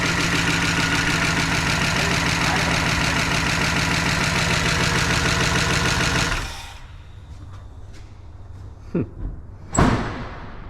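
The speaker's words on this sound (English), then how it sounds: "Now, lifter's a little noisy, but an oil change and some more heat cycles and it should be fine." A 1988 Dodge Power Ram, revived after sitting 23 years, idles loudly and steadily with a ticking noisy lifter before being shut off, leaving quiet with a couple of thuds and a door slam.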